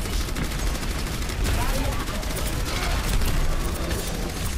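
Orisa's weapon in the video game Overwatch fires a dense, continuous stream of rapid shots, loud and close, layered with game effects.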